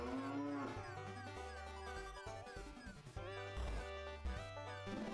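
A cow moos in the video game はたらくUFO on a farm, with long low drawn-out calls that repeat over playful game music, clear and sustained.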